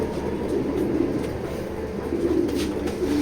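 Grizzle pigeons cooing softly in a loft, low steady murmuring with a faint rumble in the background and no talking.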